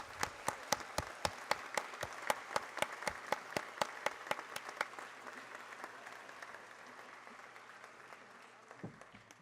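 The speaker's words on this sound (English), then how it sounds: "Please join me in applauding all of these doctoral scholars." Graduation ceremony audience applauding doctoral scholars, crisp individual claps in a sparse, regular rhythm that thins out and fades toward the end, fairly distant and quiet.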